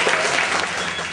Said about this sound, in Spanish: Vamos a darle un aplauso a Javier Cunha.